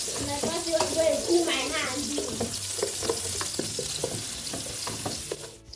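Blended ginger stirred and frying in a pan while making fried rice, a steady sizzle with scraping stirs throughout, partly under a voice talking.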